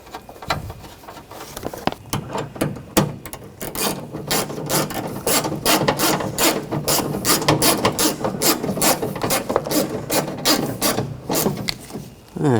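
A ratchet wrench tightens bolts on a car window regulator inside a 2014-2020 Nissan front door, giving long runs of rapid, close clicking pawl strokes with brief pauses between bursts.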